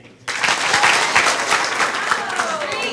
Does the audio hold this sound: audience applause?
yes